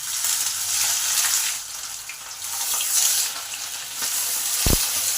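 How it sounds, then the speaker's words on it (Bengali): Pabda fish frying in hot oil, three at a time, with a continuous close sizzle and faint crackle and a single dull thump near the end. "এই মাছ একটু ফটফট আওয়াজ হয়, খুব সাবধানে ভাজতে হবে।"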